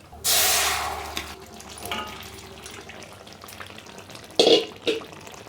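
Boiled potatoes and soybeans are tipped from a pressure cooker into a hot kadai, starting with a loud gushing, sizzling rush of liquid that fades into quieter stirring, followed by a couple of sharp metallic knocks near the end.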